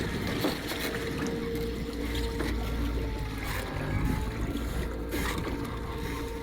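A trailer sailer on a lake runs at full power under a 1 horsepower Haswing Ultima 3.0 electric outboard, with a steady low hum and water rushing and lapping along the hull, close and continuous.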